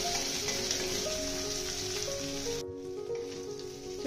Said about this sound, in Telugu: ఇలా ఆయిల్లో బాగా ఫ్రై చేసుకోవాలండి. సో బాగా కలుపుకుంటూనే ఉండాలి